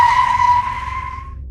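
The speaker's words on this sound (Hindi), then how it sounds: "मैंने आंखें बंद कर ली और जोर से ब्रेक पेडल दबाया" A bus brakes hard and its tires skid, a loud sustained screech that holds steady and then fades out over about a second and a half, with no voices.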